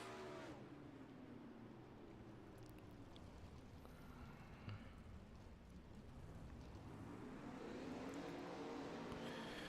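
410 sprint cars at an outlaw series dirt race run a slow lap under caution, their engines a steady, moderately distant rumble that drones without pause and swells slightly near the end.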